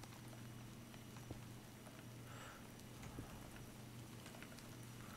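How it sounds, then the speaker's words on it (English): Steady rain falls in Minecraft with the MC Eternal modpack, a faint, continuous hiss with a low hum beneath it and no voices. "Sorry for the rain, guys."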